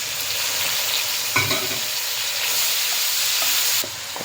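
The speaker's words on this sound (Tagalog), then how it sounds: "igigisa yung papait" Papait, a bitter leafy green, sautéing in a pan with a constant loud sizzle and hiss of frying, and a few clatters of stirring.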